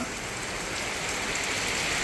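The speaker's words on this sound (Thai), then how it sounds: "ฝนตกค่ะ" Steady rain falls in a dense, even hiss, pattering on surfaces nearby at a filled-in koi pond turned garden, with no voices.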